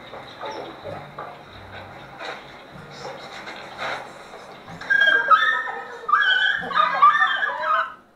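Several dogs in a crowded group whimper and yip in short, overlapping high cries, growing louder and denser in the second half, with scattered human voices beneath.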